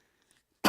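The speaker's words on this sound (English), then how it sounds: "please excuse this annoying cough" A single sudden cough bursts out at the end after near silence, short and close.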